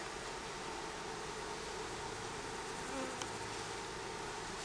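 A swarm of honey bees buzzing at a hive: a dense, continuous droning hum that stays steady and close throughout, with no speech.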